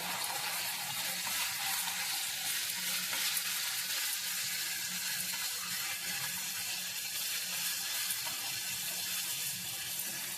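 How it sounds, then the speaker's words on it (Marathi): Chopped tomato fries in a pan while chickpea usal is being made, giving a constant close hiss and crackle of hot oil. It sizzles on for about ten seconds with no voices. "आता मी टाकते टमॅटो तोही चांगला परतून घेऊया"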